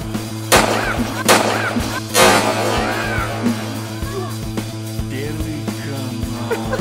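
Firecrackers burst inside a tin can outdoors, three sharp loud bangs in quick succession close by, each with a ringing metallic echo, over a steady low hum and background noise.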